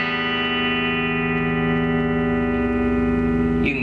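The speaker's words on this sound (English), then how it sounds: "On the bridge pickup," Bridge pickup of a Fender '52 Telecaster electric guitar sounding a bright sustained chord that rings evenly for several seconds before a quick pick or string noise at the end, heard alone without talk.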